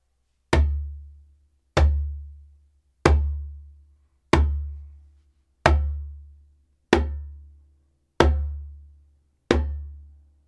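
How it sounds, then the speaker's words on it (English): Eight deep djembe bass tones, each struck with the whole hand inside the drum's edge, land one at a time at an even, unhurried pace, each a close, booming low thump that decays quickly into silence. "The bass is a low tone, and it sounds like this."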